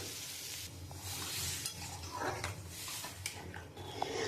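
Spices sautéing in a pan for chana dal with soybeans, a soft steady sizzle with stirring scrapes and light clinks of a utensil against the pot, fairly quiet and continuous.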